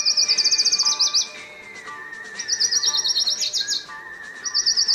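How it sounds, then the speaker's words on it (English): Lucy's warbler sings in repeated bursts of rapid, high, bright chirping trills, clear and close, separated by brief pauses against a quiet background. "our featured feathered friend continues to be known as Lucy's warbler"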